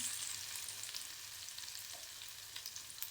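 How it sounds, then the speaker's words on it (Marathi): Coarsely crushed garlic cloves, two green chilies and ginger fry in a pan for a spiced brinjal bhaji, making a soft, continuous crackling sizzle with occasional light pops, fairly quiet and alone with no talking. "मी जाडं बरं कुटून घेतलेले लसूण आपण चांगलं भाजून घ्यायचा"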